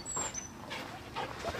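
Out on a countryside walk, a dog lets out a brief, faint whimper amid soft outdoor ambience, close but quiet and lasting under two seconds.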